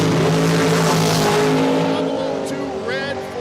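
A drag race car, one of them an 1984 Camaro, roars at Cordova Dragway, loud and close at first, then fading as it pulls away, while an announcer talks over it.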